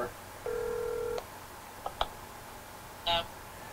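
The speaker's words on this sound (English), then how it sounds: "Call Sean. the real number" Telephone dialing tones sound as a call is placed on a late-night TV show, one long steady tone followed by short beeps and clicks and a final brief tone burst, faint and close.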